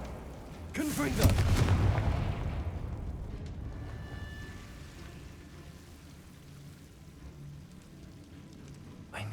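A Confringo blasting spell cast in Hogwarts Legacy bursts out at about one second, a loud crackling blast that rumbles and slowly fades into a low, hissing ambient bed.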